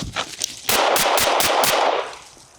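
A rapid string of about five sharp, loud gunshots rings out during a defensive shooting drill recreating a real attack, fired in quick succession at close range after a few fainter clicks.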